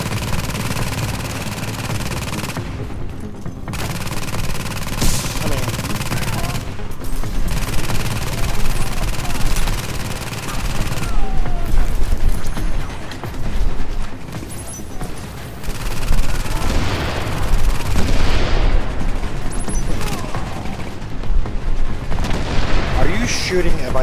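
A turret comes under gunfire in a video game. Dense, loud volleys of rapid shots and booms continue almost without a break, with a few brief lulls.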